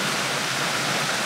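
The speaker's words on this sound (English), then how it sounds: "Look at that, we got a little water flow, a little waterfall." Creek water pouring over a small waterfall, a steady full-band rushing wash heard continuously and fairly close, with no voices.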